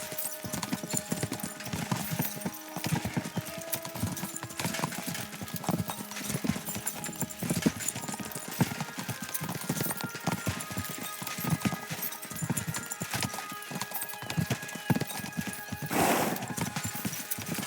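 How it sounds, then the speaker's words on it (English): Horses gallop with steady clip-clop hoofbeats and occasional whinnies in the video game Kingdom Come: Deliverance 2, loud and continuous throughout over dense game ambience. "We should spur the horses on."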